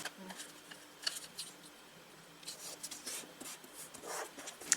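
Soft dry paper rustles and creases as a page is folded for a junk journal, a few quiet scraping strokes close by with long gaps between them.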